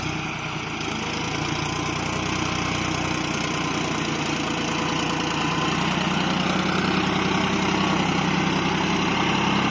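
A John Deere 5040D tractor's 2,900 cc three-cylinder engine idles at a close, steady, even chug, continuous throughout with no talking.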